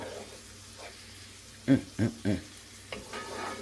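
Pressed garlic fries in a pan with a soft sizzle, broken by three quick stirring scrapes close by and a faint later clatter.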